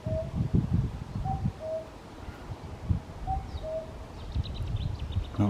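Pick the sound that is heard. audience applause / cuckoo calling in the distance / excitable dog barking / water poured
cuckoo calling in the distance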